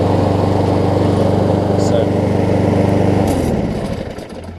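A Kohler-powered Lawn Boy mower engine, just after a top-jet carburetor cleaning, runs steadily and loud up close with a buzzing harmonic drone, then winds down and cuts out near the end.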